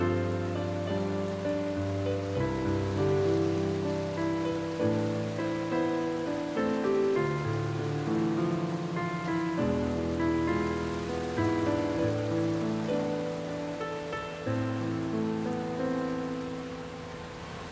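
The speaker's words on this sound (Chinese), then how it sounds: "下雨了。" Rain falls in a steady, even hiss throughout, partly buried beneath a continuous background music score with no voices.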